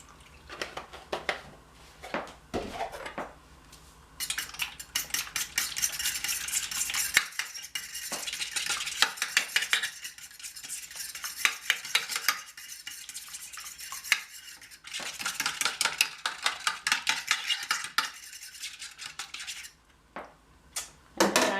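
A fork beats egg and milk in a dish, making rapid rhythmic clinks and taps in bursts with brief pauses, close and clear.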